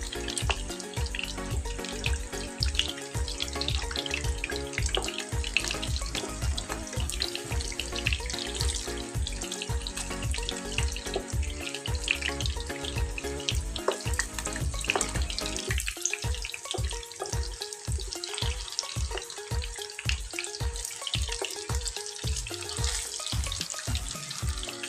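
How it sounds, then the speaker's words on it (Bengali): Chicken jali kababs fry in very hot oil in a pan, giving a continuous sizzle with rhythmic crackling and popping throughout, close and fairly loud, with no talking. "তেলটা খুব গরম হয়, একদম ফ্রাই হয়ে গেছে খুব সুন্দরভাবে"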